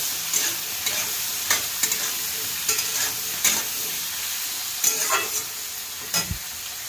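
Vegetables with turmeric powder frying in a pan, giving a steady bright sizzle broken by periodic scraping stirs of a spatula, close up with no talking.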